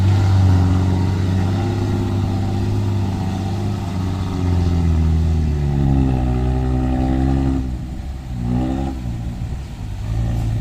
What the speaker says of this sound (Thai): โอ้เร่งเครื่องแล้วครับ